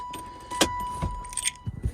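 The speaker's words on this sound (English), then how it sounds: "Sorry about that dinging, y'all. I forgot I had the key in the ignition" A car's key-in-ignition warning chime rings as a steady thin tone inside the vehicle, mixed with jangling keys and a few soft knocks and rustles nearby.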